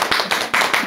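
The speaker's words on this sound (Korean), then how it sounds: "이쪽에서 박수 쳐주세요" A small group of seniors at a recreation class claps in a few short, close bursts, with brief pauses between the rounds.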